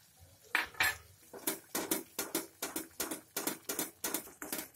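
A spoon stirs cream (malai) in a cooking pan, making a steady run of about a dozen close, rhythmic metallic clinks and scrapes with no talking.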